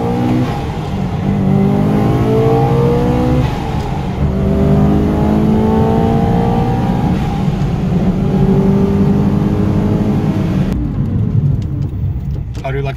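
A Subaru Impreza STI Spec C Type RA accelerating hard, its engine note climbing through repeated rising sweeps with gear changes between them, loud and close, heard from inside with people talking over it.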